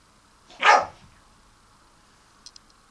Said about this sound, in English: And that was my dog.